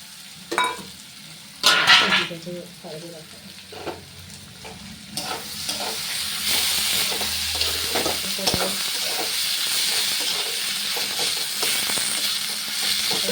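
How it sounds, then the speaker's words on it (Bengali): Chopped ginger and tomato hit a hot pan and fry, the sizzle swelling into a loud continuous hiss while a spatula scrapes and stirs in repeated strokes, close up with no talking. "আদা কুচি আর টমেটো কুচি অ্যাড করলাম"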